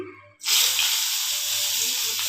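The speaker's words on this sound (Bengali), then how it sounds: "এমন বেগুনটা ভাজি," Eggplant dropped into hot oil bursts into a loud, steady sizzle after a brief quiet moment, close up and continuing without talk.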